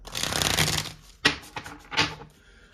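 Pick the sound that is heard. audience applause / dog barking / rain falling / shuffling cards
shuffling cards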